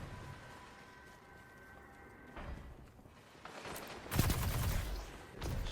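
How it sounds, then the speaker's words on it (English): Shotgun fire in a Destiny 2 Crucible match, a few heavy booming blasts with a tonal whine fading out early and a loud burst of gunfire and explosive noise in the second half, with no talk. "There's that shotgun."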